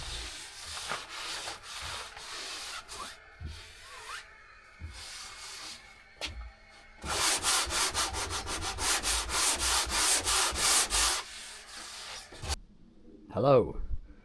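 A sander with 40 grit paper works over a cedar strip canoe hull in repeated rasping bursts of strokes, near and fairly loud, with a person speaking between and around the passes.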